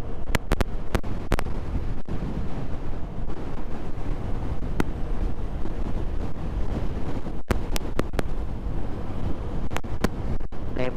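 Wind blowing across a dry, hot coastal road in Ninh Thuan, Vietnam, a constant loud microphone rumble with scattered sharp clicks and buffets, no talk.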